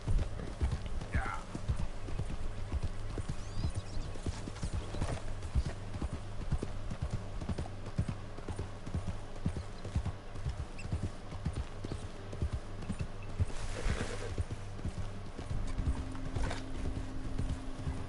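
Horse hooves clip-clop at a steady walking rhythm in Red Dead Redemption 2, close and continuous, with a brief whinny and soft game ambience underneath.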